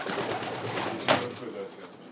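Racing pigeons coo softly in a loft, a low murmuring coo rising briefly near the middle, with someone talking over them.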